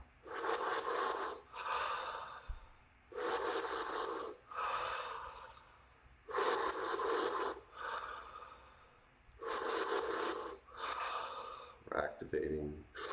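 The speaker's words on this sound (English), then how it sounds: "Complete exhale all the way to 0." Forceful, rhythmic breaths during a morning breathing exercise, with strong exhales through the nose in repeated pairs separated by short pauses, close and loud, with a brief shorter breath near the end.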